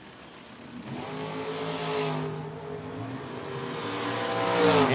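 A wicked-looking Camaro launches at a No-Box 660 drag racing shootout, its engine revving hard with harmonics climbing, a brief dip then a louder roar and tire squeal building toward the end.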